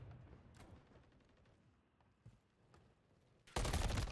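Gunfire in a video game: scattered, muffled shots, then a loud, dense burst of automatic fire near the end. No talk.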